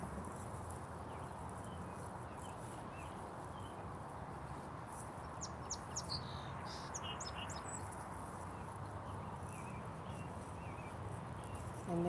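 Faint bird chirps and tweets drift in from a distance over a steady outdoor background hiss near a lake in damp weather, with a short burst of calls in the middle.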